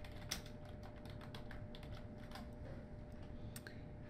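Fingers type on a computer keyboard, a quiet, quick series of light key clicks that runs steadily throughout, with a few sharper taps.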